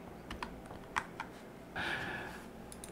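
Typing on a computer keyboard during an Arch Linux setup: a few sparse, close key clicks, then a short burst of quicker tapping toward the end.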